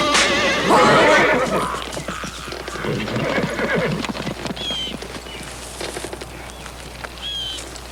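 A horse whinnies loudly near the start, with hooves clip-clopping through the rest on an open plains trail, and people speak briefly over the animal sounds.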